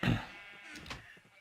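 A sheep in the Minecraft video game, at a wool shop's sheep farm, lets out a short bleat that starts loud and fades out within a second and a half.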